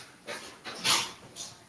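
A pet dog being let outside gives a few soft, breathy whimpers and yips in quick succession, close by against a hissy background.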